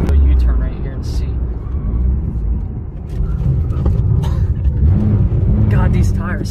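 A Subaru WRX on coilovers swings through a U-turn, its engine rumbling steadily up close inside the cabin with tire noise, while people talk over it throughout.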